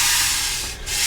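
Hand sanding across a wooden cigar box guitar top to bring it down in thickness, a steady close abrasive rubbing stroke with a brief dip before resuming.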